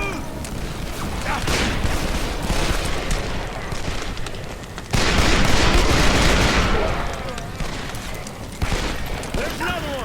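Western-style gunfire in the video game Call of Juarez: Bound in Blood rattles in dense, loud bursts of rapid shots and booms, mixed with shouted in-game dialogue and continuing across the whole stretch.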